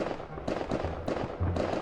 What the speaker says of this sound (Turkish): Havai fişekler patlatıyorum sana